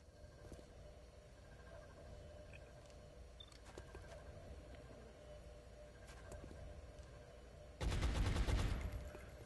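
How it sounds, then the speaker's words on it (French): Gunfire from a missed shot in the video game XCOM Enemy Within, a sudden loud burst of shots near the end, preceded by quieter game ambience with faint clicks. "Ok, tir raté, bien sûr."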